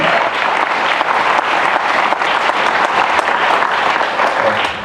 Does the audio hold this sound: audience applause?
yes